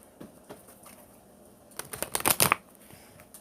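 Tarot cards drawn and shuffled during a reading: soft scattered flicks, then a quick close flurry of riffling card sounds, with no talk.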